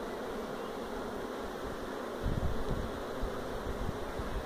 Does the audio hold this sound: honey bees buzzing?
yes